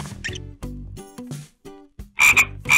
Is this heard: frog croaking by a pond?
yes